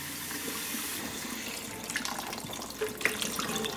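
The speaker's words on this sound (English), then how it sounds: "So now we're going to wash it with the cold water." Cold tap water runs steadily into a kitchen sink while rice is being washed, a constant hiss and splash close by, broken late by a few clinks and sloshes from a pot or strainer.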